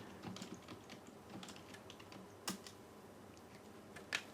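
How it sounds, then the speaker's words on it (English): Quiet, fast keystrokes on a computer keyboard as a command is entered to configure a network interface, with steady light clicks and two sharper key strikes standing out near the end. "in here I will type the command code if down and the interface of my network card"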